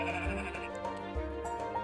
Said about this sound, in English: Go for the sheep. Those are way easier to catch.